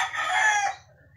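A grey gamefowl rooster crossed with Gilmore Hatch lets out a single loud, close crow lasting under a second, which then drops away into quiet.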